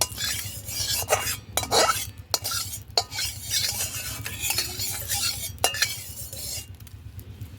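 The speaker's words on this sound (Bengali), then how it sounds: "খুন্তি করে চাড়িয়ে নেব তেলটা" A metal spatula scrapes and clinks against a wok while a little oil is stirred over a lit clay stove, repeated sharp strokes over a low steady hum, with no speech.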